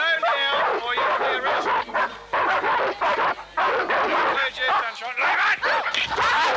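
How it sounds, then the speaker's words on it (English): Police dogs bark repeatedly and loudly at protesters at an Australian environmental protest, with excited yips and whines over constant shouting from the crowd. "They will let the dogs go."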